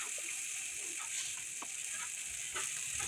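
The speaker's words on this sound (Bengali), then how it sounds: "রসুন বাটাকে একটু হালকা ভেজে নিতে হবে তেলে।" Garlic paste frying lightly in oil in a pan, giving a steady, close hiss with a few faint clicks of stirring, without any voices.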